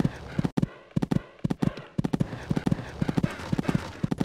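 Horse hooves clip-clopping in a steady galloping rhythm during a show-jumping course in the Equestriad 2001 video game, close and fairly loud, with a brief pause around a jump before the hoofbeats resume.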